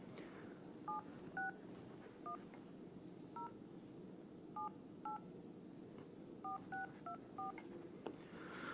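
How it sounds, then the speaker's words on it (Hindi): A phone number is keyed in as a string of distinct dialing tones in short clusters, each beep brief and clear over a steady low background hum, with no talking. "ये नंबर डायल कर रहे हैं हम लोग"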